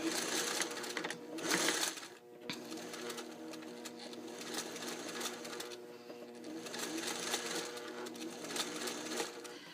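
A sewing machine stitches a fussy-cut quilt block, a steady close whirring hum with rapid needle chatter that surges briefly near the start, then runs on continuously.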